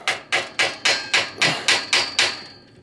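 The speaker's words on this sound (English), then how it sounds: "I'm going to take a hammer and I'm going to tap in" Nine sharp, evenly spaced hammer taps ring out on the metal crank of a vintage bike to loosen a stuck cotter pin, a steady close-up rhythm of crisp, bright strikes.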